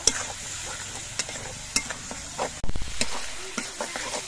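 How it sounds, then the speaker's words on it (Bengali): Ground spices with turmeric and a little water sautéing in a pan: a dense, close sizzle dotted with light spatula taps, and a brief louder surge midway, with nobody talking. "মশলাটা বেশ কিছুক্ষণ কষিয়ে নেব"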